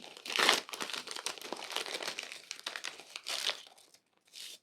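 A plastic wrapper from a Qalb El Baba prize biscuit is pulled out and torn open, giving dense, loud crinkling and crunching in several bursts, then a short pause and a final rustle.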